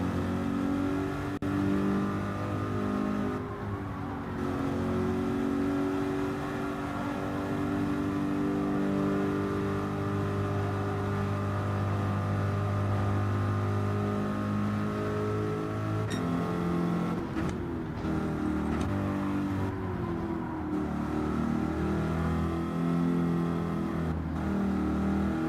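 A Group 4 race car engine in Gran Turismo 7 drones steadily through warm-up laps. Its tone rises and falls with acceleration and shifts, close and continuous without pause.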